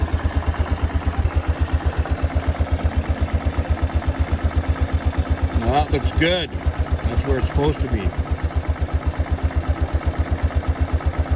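A Kawasaki Bayou KLF300 ATV engine idles with a steady, loud, rapid thumping beat close by, rising slightly in pace while someone talks over it.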